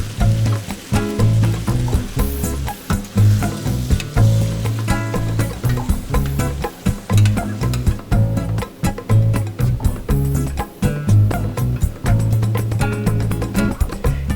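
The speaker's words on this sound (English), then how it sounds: "Now after you brown your meat, drain it and add your spaghetti sauce." Browned Italian sausage sizzles in a pan with spaghetti sauce, producing a steady, close bubbling crackle with rhythmic stirring scrapes throughout.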